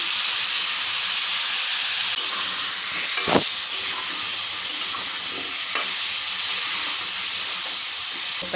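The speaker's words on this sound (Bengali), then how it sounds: "আমি পেঁপে আলুগুলো তেলে ছেড়ে দিচ্ছি নুন দিচ্ছি" Papaya and potato pieces fry in hot oil with a loud, steady hissing sizzle throughout, broken by a few soft clicks of stirring.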